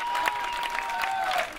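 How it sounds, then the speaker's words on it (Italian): Audience applause at an Italian comedy night wedding sketch, steady dense clapping filling the whole moment with a faint whistle tone running through it. "Un applauso alla lettera di Pino a sua madre."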